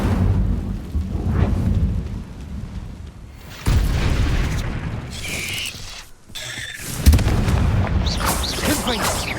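Fiery Confringo spell blasts in Hogwarts Legacy erupt as loud booming explosions, several heavy bursts with rumbling tails and crackling debris, close and forceful, a gap of near silence between two of them.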